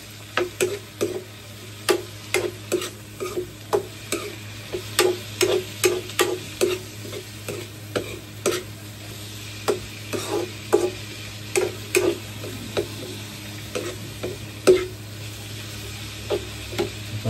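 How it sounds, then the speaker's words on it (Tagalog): Tomatoes sautéing in oil in a pan, a steady sizzle broken by a rapid run of close spoon-against-pan stirring clacks, regular at first and then looser. "Pag ginigisa natin ang kamatis"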